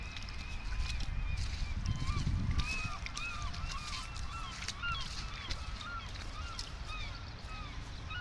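A flock of geese honks repeatedly outdoors in the rain, overlapping calls at mid distance over a steady wet background hiss and low rumble.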